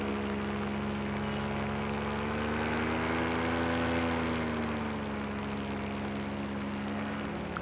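A paramotor's engine and propeller in flight give a loud, steady droning hum that rises slightly in pitch midway and then eases back, continuous throughout with no talking.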